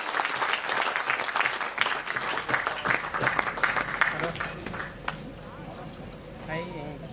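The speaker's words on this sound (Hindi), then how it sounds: "एक बार जोरदार जिन साथियों ने दिया उन साथियों के लिए जोरदार ताली।" Audience applause at a public gathering in Mumbai, steady clapping filling the room while a voice speaks over it, the clapping thinning out toward the end.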